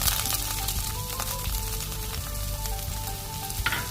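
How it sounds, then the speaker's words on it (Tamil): Shallots and green chili hitting hot oil, a dense, loud, continuous sizzle and spatter heard up close, steady throughout with no voices. "இப்போ எண்ணெய் சூடாயிருச்சு. நம்ம அதில் சின்ன வெங்காயமும் பச்சை மிளகும் போட்டுக்கலாம்"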